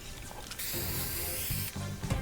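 A spray-paint tag applied in Fortnite gives one short, close hiss of about a second, standing out over faint game ambience.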